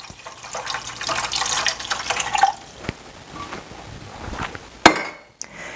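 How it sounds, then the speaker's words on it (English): About six cups of chicken broth are poured into a pot of Cuban black bean soup. A steady liquid splash runs for a couple of seconds, then gives way to scattered drips and a few sharp clinks. "And now we are going to add the chicken broth."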